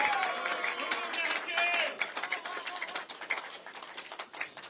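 An audience claps at a Daegu mayoral campaign event. Scattered, moderately loud hand claps roll on, mixed with a voice early on, then thin into uneven separate claps.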